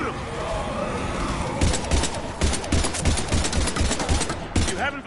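Rapid bursts of video game gunfire in Mass Effect 3, combat against Husks, with sharp repeated shots clustering into loud volleys, mixed with shouted voices and chaotic battle noise.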